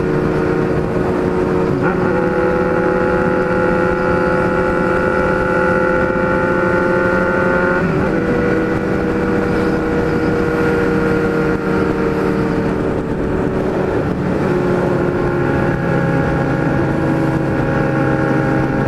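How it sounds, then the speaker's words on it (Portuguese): Kawasaki Ninja 300 and Z1000 motorcycles riding in a group, a steady loud engine drone with shifting pitch as the bikes cruise and rev, continuous throughout with wind rush. "Tamo andando com uma Ninja 300 aqui, ó."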